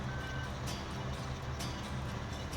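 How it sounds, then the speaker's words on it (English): In Farming Simulator 15, a vehicle's reversing alarm beeps faintly in the distance, mostly buried under a steady engine drone and broad background noise. "I hear the beeping down there"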